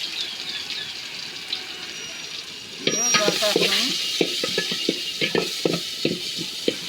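Bay leaves with chopped garlic and onion frying in hot oil, a steady close sizzle joined by stirring scrapes and clatter from the midpoint on.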